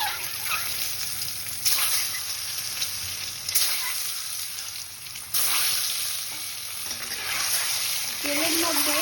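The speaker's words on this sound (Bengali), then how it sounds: "এবার একটা কড়াইতে কিছুটা সাদা তেল গরম করে তাতে একটু আমি হলুদ আর একটু লবণ দিয়ে ডিমগুলোকে একে একে ভেজে নেব" Eggs frying one at a time in hot white oil seasoned with turmeric and salt in a wok, a steady close sizzle with sharper crackling bursts that swell every few seconds.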